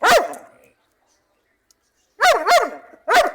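A dog barks sharply and close by: one bark at the start, then after a quiet pause a quick pair and a final bark, loud and alone with no talk.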